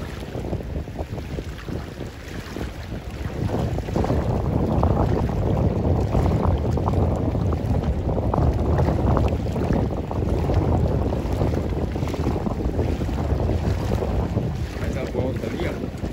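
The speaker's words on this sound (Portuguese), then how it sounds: "Aí agora o vento bate forte naquela vela." A sailboat moving across the water in strong wind, with steady heavy wind buffeting and rushing water throughout, close and loud, and no clear talk.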